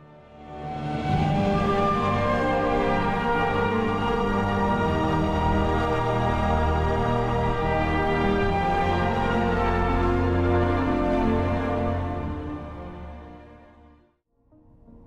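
Music from an Elder Scrolls game set in Tamriel plays as a sustained, dense orchestral passage. It swells in quickly, holds steady at full volume for about eleven seconds, then fades to near silence.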